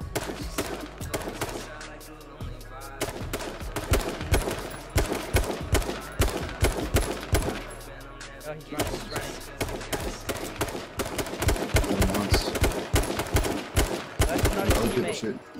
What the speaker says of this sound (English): There's people shooting at him to the right.